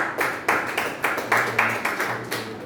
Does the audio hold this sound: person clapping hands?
yes